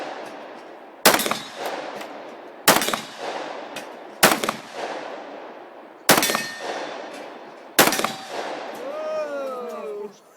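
Five sharp gunshots ring out one at a time at uneven intervals, each with a ringing echo, followed by a faint voice at the end.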